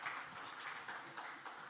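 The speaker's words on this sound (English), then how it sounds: "All right, give him a round of applause." A small business-meetup audience claps for a presenter, a brief, faint, muffled patter of applause lasting under two seconds.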